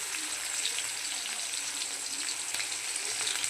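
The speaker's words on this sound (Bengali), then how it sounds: "এটা একটু ভাজা হবে তারপর আমি দিয়ে দেবো কাঁচা লঙ্কা একটু ভাজা হচ্ছে" Chopped onion and garlic frying with black cumin seeds in hot oil, a continuous close sizzle with scattered pops and light crackle, steady in level and without speech.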